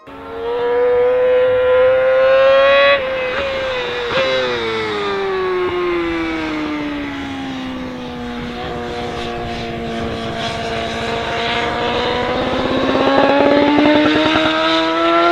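A high-revving superbike engine screams up and down through the rev range, loud and close, with sharp rising and falling pitch sweeps.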